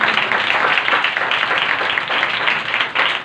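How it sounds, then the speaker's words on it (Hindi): A church congregation at a Sunday service claps loudly and continuously in praise of Jesus, a dense, steady wash of many hands filling the room for several seconds. "आइए यीशु के जोरदार तालियां बजाएंगे।"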